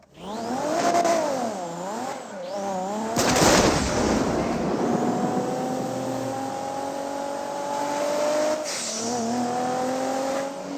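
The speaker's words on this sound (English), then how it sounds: "You're about to hear my big motor coming up in a minute." In GTA 5, a Volkswagen Beetle with a swapped 2JZ engine revs hard, and its pitch sweeps up and down. A sharp bang cuts in partway through, then the car holds a long rising drone. It stays loud and close, with no talking.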